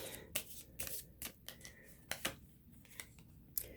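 Tarot cards are handled and shuffled close up in a quiet room, soft riffling brushes and sharp flicks in irregular bursts, with a faint voice briefly present.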